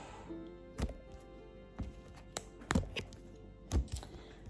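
A tarot card deck being cut on a table, heard as several soft, separate taps and thumps spaced irregularly against a quiet background.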